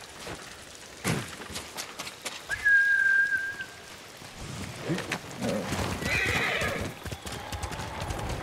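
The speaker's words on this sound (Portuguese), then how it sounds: "que cavalo imbecil, mano." A horse in the video game Ghost of Tsushima whinnies loudly with a rising, drawn-out neigh, accompanied by clip-clop hoofbeats and other game sounds.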